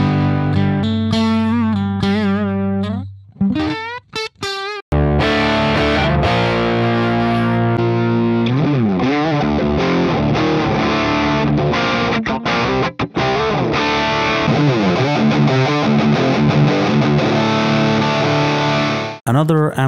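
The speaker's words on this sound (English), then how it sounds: "it includes four modes of distortion, also an internal cabinet emulation" A guitar amp simulator plugin with four distortion modes and internal cabinet emulation gives a loud, heavily distorted electric guitar. It plays bends and sustained riffs, with a few brief gaps and chordal passages.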